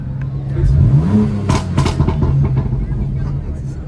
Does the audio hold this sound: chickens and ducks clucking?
no